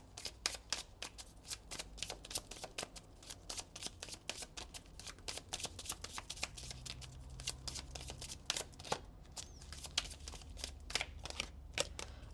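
Oracle cards, a cosmic insight deck, being shuffled by hand make rapid, crisp riffling flicks in quick repeated bursts, close and quiet over a low background hum.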